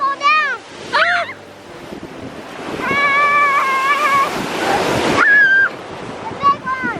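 Ocean surf washes up a beach in steady rushing swells with wind noise, while children shout and squeal excitedly over the waves throughout.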